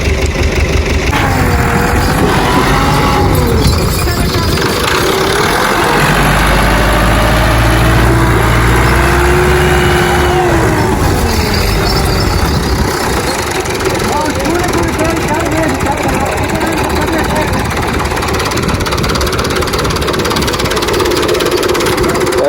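A 640 tractor engine runs loud and close with a steady low throbbing drone as it strains to pull a trolley stuck on a road, the rumble rising and holding under occasional voices.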